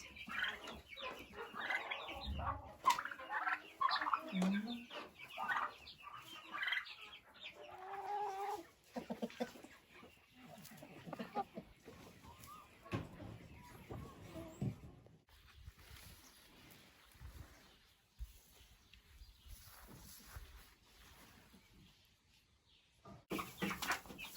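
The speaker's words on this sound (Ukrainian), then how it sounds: "Це курчатку. А півник темненький, сосунчик." Chickens, chicks and a young dark rooster cluck and peep at a country dacha, a busy close-up stretch of clucks and chirps in the first half, thinning to sparse, faint calls later, with no talk.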